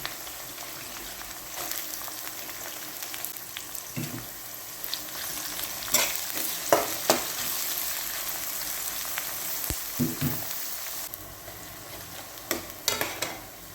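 Onions sizzle steadily in a hot pan, with intermittent scraping and clanking as a utensil stirs them, close up and with no talking.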